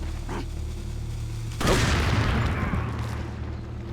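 Gunfire in Resident Evil 4 aimed at spiders: a single loud boom bursts in about halfway through and trails off into a fading rumble over a steady background hum.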